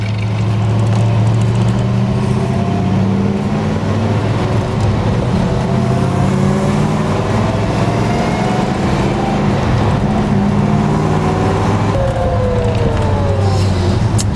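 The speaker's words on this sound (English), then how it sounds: "There you go, there's the exhaust note." A 1970 Plymouth Superbird's engine runs steadily under throttle, a loud continuous low rumble with shifting harmonic tones lasting the whole stretch, close by and without talk.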